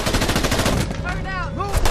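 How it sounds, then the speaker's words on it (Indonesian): Gunfire from an action film shootout with a cartel rattles in rapid automatic bursts, loud and dense, with a few whooshing sounds and faint voices in the background. "Mereka menembaki anggota kartel itu satu persatu tanpa rasa takut."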